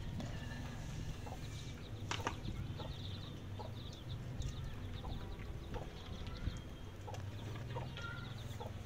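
Chicks peep softly in short, scattered chirps over a steady low background hum, fairly faint and distant, with no talk.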